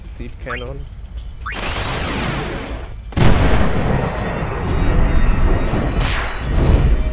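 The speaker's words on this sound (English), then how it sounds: "Deep cannon." Deep Cannon attack from Final Fantasy X HD Remaster: loud, rumbling blasts with a sudden heavy burst a few seconds in, followed by sustained crashing and explosive roar.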